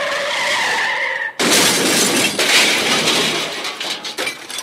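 A car crash sound effect in an auto body shop commercial: a sharp impact bursts in after a tire skid, followed by shattering glass and clinking debris, loud and alone.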